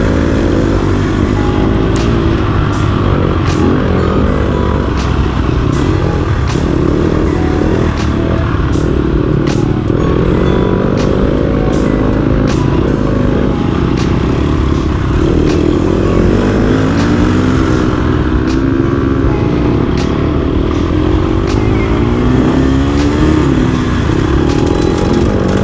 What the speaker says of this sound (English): That chain chatter was from me.